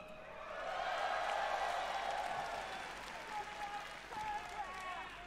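A large convention crowd at BlizzCon cheers and applauds in a sustained roar that swells early and then slowly tapers, with scattered whoops and shouts throughout.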